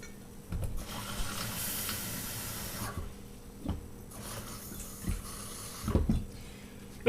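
A cup of water poured into a cooking pot outdoors, a soft splashing pour that rises and fades, with a few light clinks and knocks around it, fairly quiet and close.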